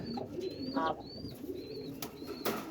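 A pigeon coos in soft low phrases, with thin high bird chirps repeating over a steady background.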